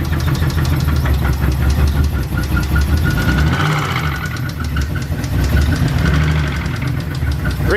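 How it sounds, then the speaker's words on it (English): An Infiniti G35 engine idles with a steady valve tick. The rough, continuous mechanical rumble and rapid ticking are loud and close throughout, with no talk. "I think it's just a valve tick, dude."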